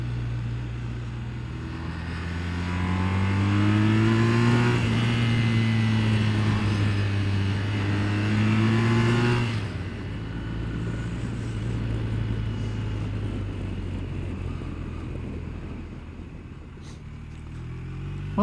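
Motorbike on a short winter ride, engine droning loud and close as it revs up and settles through gear changes, then easing off to a lower steady rumble with wind noise.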